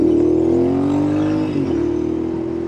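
A Royal Enfield Super Meteor motorcycle engine pulls hard and close, a loud throbbing drone whose pitch climbs, dips briefly at a shift, then climbs again.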